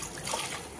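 Water poured over small idols of Lakshmi and Ganesh as they are washed, a brief, soft close trickle and splash of running water, steady with no voices.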